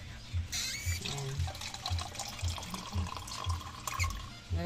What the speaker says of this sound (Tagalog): Nalagyan natin siya ng kunting tubig.